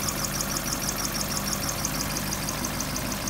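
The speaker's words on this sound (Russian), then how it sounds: "Работа двигателя на холостом ходу." Steady idle of a 2-litre G4GC engine in a Hyundai Elantra, a close, even mechanical hum with a light ticking rhythm and no pauses, no voices.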